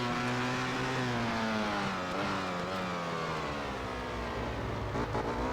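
Ducati motorcycle engine in the MotoGP 13 racing video game, a continuous high-pitched whine that rises and falls with gear changes as the bike races, moderately quiet with no talk.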